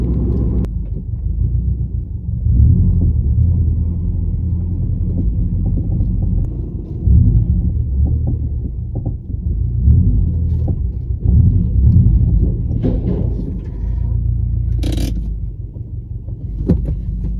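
A car on its first road test after a radiator replacement, steady low engine and road rumble throughout with some wind buffeting, no talking.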